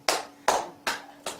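An audience at a Buddhist monk's dharma talk in Chungcheong claps slowly in unison, giving four sharp, evenly spaced bursts of hand claps with short decays between them and no talking.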